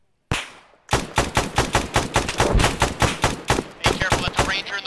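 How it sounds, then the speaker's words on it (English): Rifles fire in rapid, closely spaced bursts during an Arma 3 military simulation firefight, with loud, sharp cracks that continue for several seconds after one opening shot. "Now open fire."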